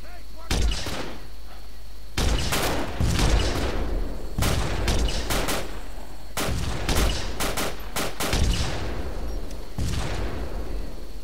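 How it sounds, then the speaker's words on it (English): Machine gun fire in the ARMA 2 Vietnam mod, during a US forces assault on Hill 411, comes as loud repeated bursts separated by short pauses across the whole stretch, heavy and close, with shouted voices between volleys. "machine guns will rip us apart!"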